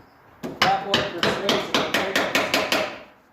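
A light hammer tapping together a slab wood furniture joint, about ten sharp, evenly spaced taps in quick succession, close and crisp, with no talking.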